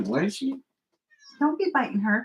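A house cat meows briefly near the start, right alongside a voice, and then she keeps talking after a short pause.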